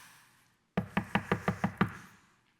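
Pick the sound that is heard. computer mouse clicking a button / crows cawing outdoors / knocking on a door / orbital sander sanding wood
knocking on a door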